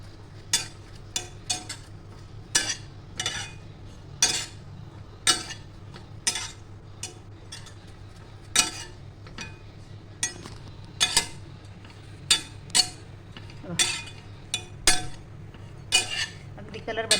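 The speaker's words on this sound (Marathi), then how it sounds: "आपण दोन वाटे खोबरं घेतले ते नुसतंच भाजून घेणार" Grated coconut dry-roasting in a pan, with a spoon scraping and clinking against the metal in steady, irregular strokes about once or twice a second over a low steady hum.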